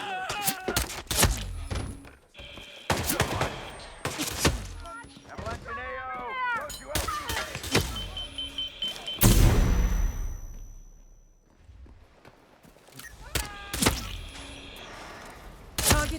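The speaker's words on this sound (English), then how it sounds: "Gunfire." Gunfire inside a hospital operating room in the stealth game Hitman 3, sharp loud shots and thuds scattered among game sounds, with a voice speaking at points.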